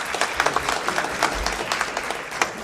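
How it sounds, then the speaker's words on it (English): Applause from a room of supporters at a political fundraiser, steady moderate clapping throughout with scattered sharper claps, heard at a slight distance. "Let's give them a round of applause."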